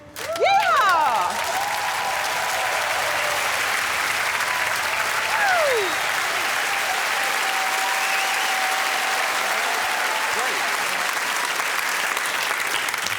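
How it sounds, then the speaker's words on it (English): A studio audience of a comedy panel show bursts into loud, continuous applause and cheering that holds steady for over thirteen seconds, with a few whistles rising above it. "it got a small group of pensioners clapping along"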